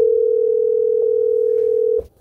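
A single steady telephone tone holds for about two seconds and then cuts off abruptly, loud and close, with nothing else around it.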